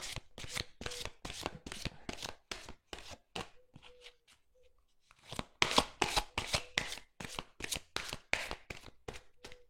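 Tarot angel cards of love are shuffled close up in rapid, crisp riffling flutters that stop briefly midway, then resume in a steady run of quick card slaps.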